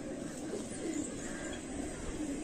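Pigeon cooing from a large, well-built female kamagar pigeon at a loft in R.S. Pura, Jammu: soft, low, continuous murmuring coos at close range over steady background noise, with no talking.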